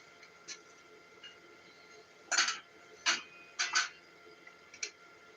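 A knife cuts into a cheesy steak in a few short crisp bursts, mid-clip, with a couple of faint ticks around them in a quiet room.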